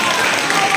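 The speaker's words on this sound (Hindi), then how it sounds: "तो सर के लिए भी एक जोरदार ताली हो जाए" An audience at an evening stage program applauds a yoga teacher, a dense, loud wash of clapping that fills the whole moment.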